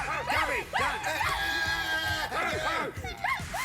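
A dog barks and yips repeatedly nearby, with whiny, excited calls mixed with people talking.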